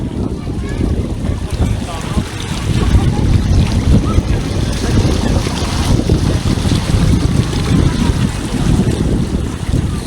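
Strong wind roars into a Xiaomi 11T 5G phone's microphone in heavy, buffeting gusts, a loud continuous rumbling rush with no break.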